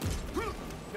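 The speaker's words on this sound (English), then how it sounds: "Changing magazine." A quick mechanical click-and-creak of a gun magazine being swapped during Space Marine 2 combat, a single short metallic action, close and fairly quiet under a dense game soundscape.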